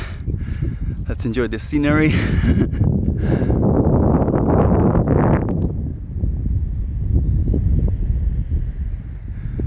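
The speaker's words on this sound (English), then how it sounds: "here's another gust of wind." Wind gusts outdoors beside a glacial lake in the Canadian Rockies, a steady broadband rush that swells strongly midway and then eases, heard under a man's speech.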